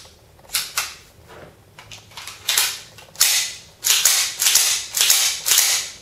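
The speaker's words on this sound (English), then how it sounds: "You just slide it right back on the rails, like so, and put the slide release back into the gun." Sharp mechanical clicks and snaps from a KWA 1911 airsoft pistol as its slide is pushed back onto the rails, a rhythmic run of about a dozen close, crisp metallic clacks that grow louder and quicker toward the end.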